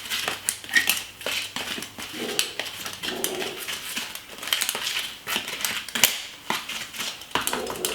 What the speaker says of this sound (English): I'm just gonna simply use a spoon and simply mix it together